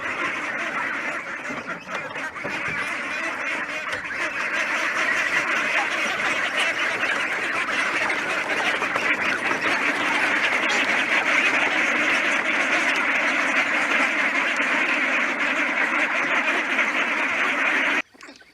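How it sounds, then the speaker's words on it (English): A flock of ducks quacks loudly and continuously close by as they are let out of their pen, a dense overlapping chorus that cuts off abruptly at the end. "let out the quack pack"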